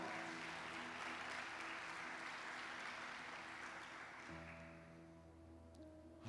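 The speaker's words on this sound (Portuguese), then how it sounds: "Dá um aplauso para o Senhor bem forte." Church congregation applauding during a worship service, a dense steady wash of clapping that fades toward the end as organ or keyboard chords rise underneath.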